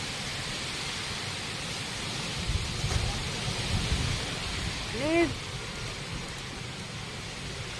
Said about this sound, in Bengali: জাস্ট দেখো হাওয়ার আওয়াজটা তোমরা দেখো